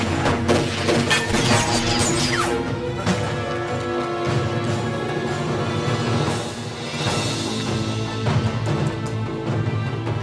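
Gunfire and crashing impacts from a Chinese anti-Japanese war film with female special forces, dense and loud throughout, layered with a dramatic musical score and effects.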